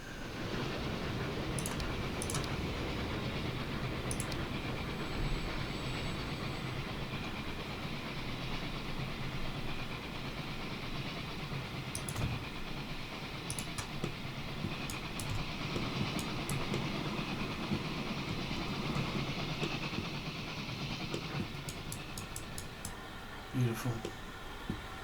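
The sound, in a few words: trains running in the video game Transport Fever 2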